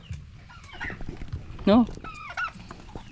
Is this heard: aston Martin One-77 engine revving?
no